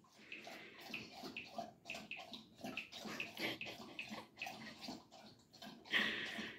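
Rapid, wet lapping and slurping of a dog drinking from a bowl, close by, continuing steadily with brief pauses.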